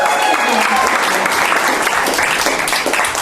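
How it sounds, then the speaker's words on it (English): Loud, dense applause from a comedy club crowd welcoming the evening's host, continuous clapping close up with some cheering voices mixed in. "I think that deserves a round of applause"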